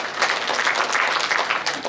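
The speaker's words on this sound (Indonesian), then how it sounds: "Berikan tepuk tangan kepada Tuhan." A congregation claps together during a sermon at Bethany church in Surabaya, a steady, fairly loud wash of many hands sustained throughout.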